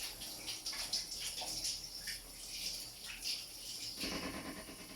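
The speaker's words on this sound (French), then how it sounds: "pour se laver les mains" Tap water runs into a kitchen sink as hands are washed, a steady close splashing and trickling with small shifts in flow and no talk.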